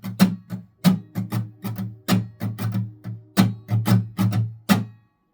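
Acoustic guitar strummed in a campfire-style rhythm for a song: about a dozen and a half crisp down and up strums in a steady pattern with short gaps, close and clear, ending on a ringing chord before silence.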